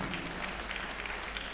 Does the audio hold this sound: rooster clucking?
no